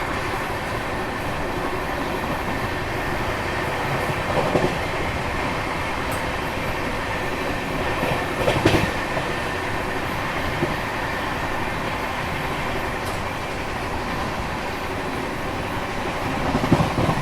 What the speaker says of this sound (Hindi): घाट पार करने के बाद वापस से 130 की रफ्तार में हिंदूपुर अपनी कर्नाटक एक्सप्रेस पहुंच रही है